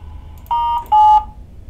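A phone line opening during a conference call, marked by two loud electronic tones in quick succession, each a sustained beep lasting a fraction of a second, with a slightly higher second tone and quiet background hum.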